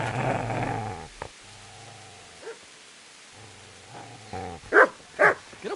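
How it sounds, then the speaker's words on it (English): A dog in Kingdom Come: Deliverance growls low and steadily at Henry, then lets out a few loud, close barks near the end, with no voices over it. "Get away, you mutt!"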